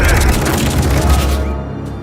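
Loud, dense movie gunfire from a crowd of people on the ground during an action scene, a continuous booming barrage that fades in its final half second.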